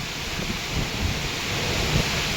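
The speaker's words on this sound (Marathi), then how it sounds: "कसला पाऊस आलाय" Heavy rain and a thunderstorm with wind, a dense, continuous roar of downpour with low rumbling underneath, steady and loud throughout.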